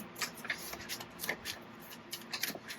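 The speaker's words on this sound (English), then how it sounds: "I have a new puppy, and he's eating a wedding invitation" A wedding invitation's paper rustles and crinkles in quick, irregular bursts nearby as a puppy chews and tugs at it.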